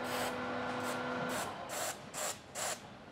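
A handheld sprayer mists onto a cloth face mask during mask making, giving five or six short, faint hissing bursts in an irregular rhythm, close by in a quiet room.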